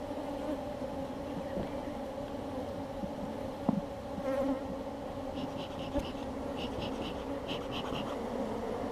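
Bees buzz around an open beehive during a hive demonstration, a steady close droning hum with a few brief knocks and clicks, no talking.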